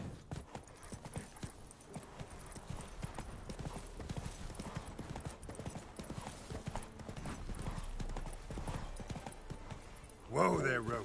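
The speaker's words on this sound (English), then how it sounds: "Whoa there, Roach. Not up to hunting rabbits anymore?" Horse hooves clip-clop steadily in The Witcher 3 video game, a close rhythmic trotting under ongoing game sound, ending with a brief horse snort or whinny.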